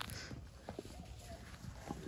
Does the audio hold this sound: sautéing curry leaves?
no